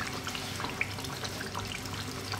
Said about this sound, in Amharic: ውሃን ከልሳለን የሚበቃንን ያህል እንከልሳለን ማለት ነው።